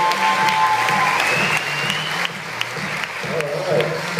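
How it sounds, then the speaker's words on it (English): Audience applause at a LifeLine talk show, broad steady clapping from a crowd lasting several seconds, with a voice talking over it. "Go ahead, a round of applause for them."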